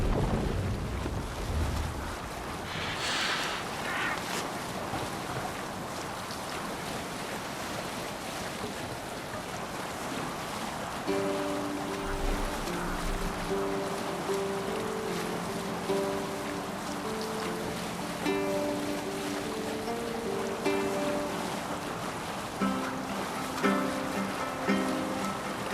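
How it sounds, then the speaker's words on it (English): Sea rowing aboard a longship in the video game Assassin's Creed Valhalla: steady waves and wind wash over the whole stretch, with rhythmic water and creaking sounds, and soft musical tones join midway. "Need to row our way out."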